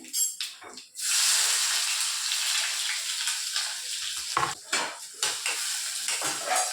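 Cumin and onion drop into hot oil in a pan, and a sudden loud sizzle bursts out and keeps hissing steadily. A spoon scrapes and knocks against the pan as the mix is stirred, up close with no talk.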